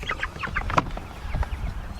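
Chickens packed in a tote for the move from the house to a coop converted from a shed cluck and peep close by, with a steady stream of overlapping soft calls and one sharper squawk.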